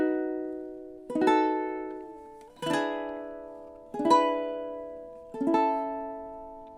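Ukulele plays the final three measures of a song as four separate strummed chords, each struck firmly then left to ring and fade for more than a second, close and clear with no talking.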